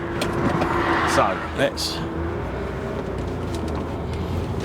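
Ferrari 512 BB with a misfire, driven slowly in low gears, gives a steady mid-level engine drone with a brief surge early on, heard from inside the car while someone talks over it.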